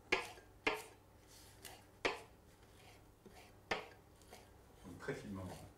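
Sage, chervil and parsley being finely chopped with a knife on a board: sharp, separate chops at irregular intervals, then a quicker cluster of cuts near the end, close and clear.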